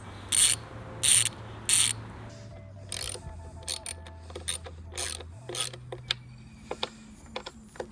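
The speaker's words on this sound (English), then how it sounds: "a 10mm is what you're going to need to get those 4 bolts off" Ratchet wrench loosening 10mm bolts on a 2022 Ford Bronco: three loud bursts of rapid clicking, then a run of shorter, quieter ratchet clicks and metallic ticks, close up with no talk.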